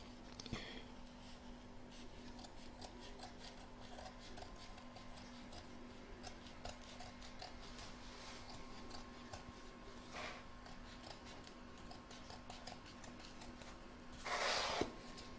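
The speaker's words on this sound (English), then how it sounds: "Next we're going to trim up the excesses." Scissors trim away excess batting around an in-the-hoop embroidered oven mitt, giving quiet, closely spaced snips and light rubbing against a faint steady hum, with a slightly louder rustle near the end.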